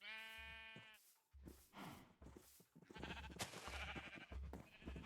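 Sheep in Minecraft bleat several times in close succession, loud and near, with game sounds around them and no talk.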